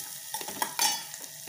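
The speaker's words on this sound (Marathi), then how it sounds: "कांदा भाजत आलाय" Onion frying in a pan for a fresh coconut vegetable dish, giving a brief, steady sizzle and hiss with a few soft scraping knocks from stirring.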